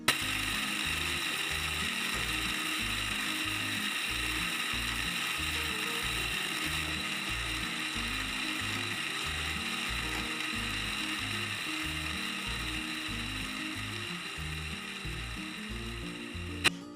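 An electric grinder pulverises dried turmeric into powder with a steady, fairly quiet whir. A fast, regular rattling pulse runs underneath without a break for the whole stretch, and nobody speaks.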